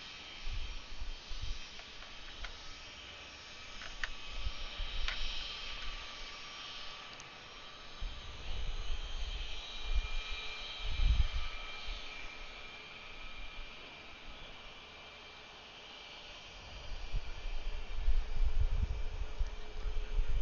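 A Beechcraft aircraft on final approach to land at Atlanta airport, heard as a steady, distant engine hum and broadband hiss with a few rumbling swells, with no voices.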